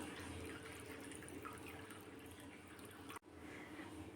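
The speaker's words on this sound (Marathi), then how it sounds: "तर परत पाणी घालत आहे मी" Water pours steadily and faintly into a cooking pot of mung dal and spinach, a soft continuous trickle with a brief click near the end.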